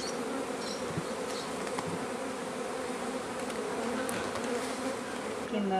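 Honeybees buzz steadily around an open hive being prepared for amalgamation, a dense continuous drone close by with scattered individual bees flying past, and no talk.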